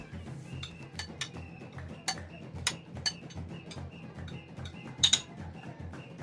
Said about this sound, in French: Pour la vinaigrette, je vais écraser le jaune d'œuf.